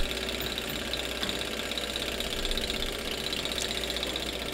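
A small model Stirling engine heated by an alcohol burner and driving a DC generator runs steadily, a fast even mechanical whir and ticking that stays constant and close throughout.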